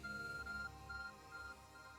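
The Arc Phone in Pokemon Legends: Arceus beeps with a faint, thin tone in short repeated pulses over a soft game background hum.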